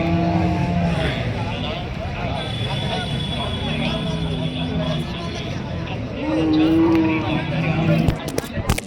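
Cows at a Thursday cattle market in Alephata, Junnar, Pune district, lowing repeatedly in drawn-out moos close by, mixed with crowd babble and people talking.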